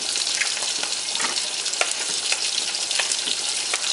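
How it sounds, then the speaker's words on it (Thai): A pot of water boiling hard on the stove while coconut-milk soup with lotus stems is made, giving a loud, steady bubbling sizzle with frequent small pops. No one speaks. "หม้อนู้นดำเดือดแล้วเดี๋ยวต้องเร่งมือหน่อย"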